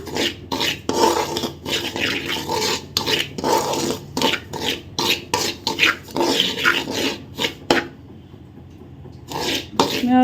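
Semolina (rava) roasting in ghee in a pan over low heat for rava laddu, with a steady scraping, rasping stir and repeated clinks of the spoon against the pan, loud and close.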